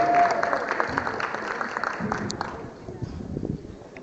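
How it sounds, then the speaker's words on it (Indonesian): An audience applauding at a seminar: a dense, steady patter of many hands clapping that gradually thins, with a voice speaking over it. "sekali lagi beri tepuk tangan yang paling meriah untuk ketiga pembicara kita"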